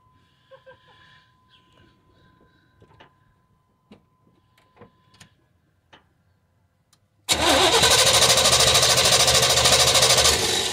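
A car engine fitted with a new Summit Racing Max Performance carburetor cranks and catches, bursting into a loud steady running roar after several seconds of quiet shop clicks and small handling noises.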